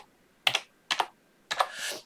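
A few sharp clicks on a computer keyboard as a file name is typed in, three quick clusters of crisp key taps separated by short gaps, close and clear in a quiet room.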